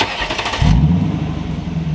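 A Lexus LS 460 with its muffler deleted cranks and catches, the engine start rising into a loud, deep, rumbling idle that holds steady and close for the rest of the moment.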